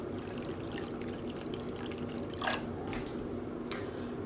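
Wet wool yarn dyed with Hawaiian Punch is lifted from a dye pot, and water drips back into the pot in a few quiet, scattered drops over a low steady background hum.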